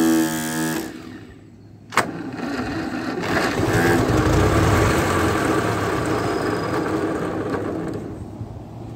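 A 1953 Ferguson TEA20 tractor engine catches after a brief cranking burst and settles into a steady, loud, slightly rough idle close by.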